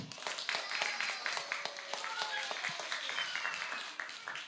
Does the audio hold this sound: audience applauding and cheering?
yes